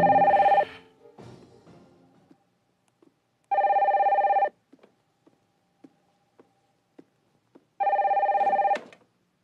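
A telephone rings in three loud, clear bursts of about a second each, separated by quiet gaps with faint clicks and small knocks, and no one speaks.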